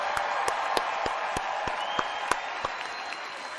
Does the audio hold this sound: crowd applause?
yes